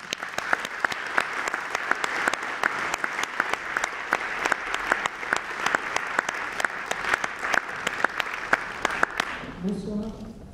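An audience applauds Martine Debiès in a dense, steady round of clapping that runs for about nine seconds before fading out as a voice begins.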